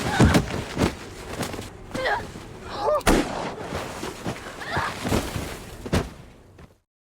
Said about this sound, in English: both Ed and Sandy hear the gunshot echo through the storm